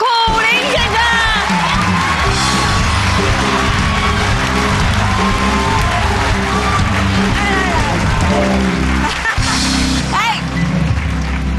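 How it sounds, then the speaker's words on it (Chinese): A studio audience on a Taiwanese evening talk show cheers and shouts to welcome a guest onstage. The crowd noise is loud and continuous, mixed with music and voices throughout. "让我们热烈掌声欢迎苦林先生。"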